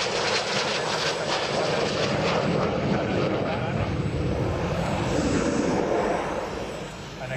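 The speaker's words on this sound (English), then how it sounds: "This is the AV-8B Harrier 2, or rather the Matador in Spanish service." An AV-8B Harrier II jet in Spanish naval service performs at an air show, a loud, continuous roar that fills the whole stretch and eases slightly toward the end.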